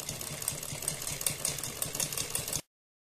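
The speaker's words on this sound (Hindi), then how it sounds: "इस गले के किनारे किनारे पर चारों तरफ सिलाई लगाते चले जाएंगे" A sewing machine runs steadily while stitching around the edge of a fabric neckline, its fast rhythmic needle clatter close and continuous before stopping abruptly.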